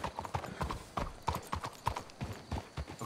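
Horses' hooves clip-clop at a walking pace in Red Dead Redemption 2, a close, rhythmic run of distinct hoof strikes lasting a few seconds with no talking over it.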